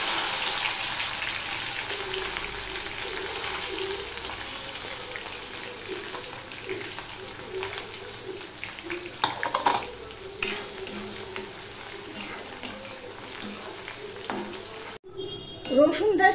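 Crushed garlic sizzles steadily in hot oil in a pan while being stirred for a mixed pickle, a continuous close frying hiss with occasional scraping clicks, and a brief sharper clatter near the end.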